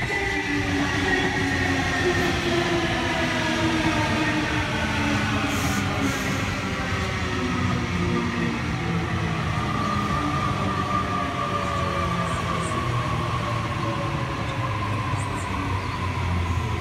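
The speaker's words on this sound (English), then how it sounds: "Campbelltown service arriving onto platform number two, and a City Circle service arriving onto platform number one" A Sydney Trains service pulls into platform two at Ingleburn station, a steady close rumble of wheels and traction motors with rising and falling tonal whine that runs unbroken throughout, with no talk over it.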